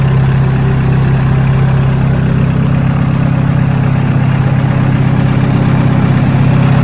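Honda B18C1 turbo engine in an Integra GSR build, fitted with an intercooler and aluminum radiator, idling with a loud, steady low hum and even vibration throughout, no voices.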